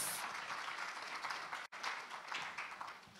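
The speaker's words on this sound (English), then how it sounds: "I think she deserves an applause." Faint, distant applause from an audience follows a speaker at a panel on female CEOs and chairs, as steady clapping with a brief dropout midway.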